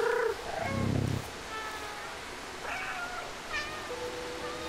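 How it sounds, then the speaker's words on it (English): A cat in a video game meows several times, including a loud low yowl, followed by softer high meows over a steady hiss. "Yes, we're playing cat game."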